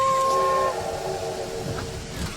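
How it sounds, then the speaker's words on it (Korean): A loud, steady steam-train whistle blows for under a second in a horror video game, then gives way to the low rumble of a departing train that carries on to the end. "삐삐 우리 열차 출발합니다"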